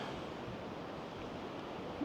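Sea waves wash against a rocky coast in a steady, even roar of surf, joined by some wind noise, with no clear individual breakers.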